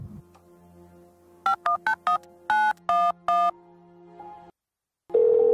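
A series of short, distinct telephone keypad tones beeps out in quick succession over a low background hum, followed by a brief silence and a steady tone.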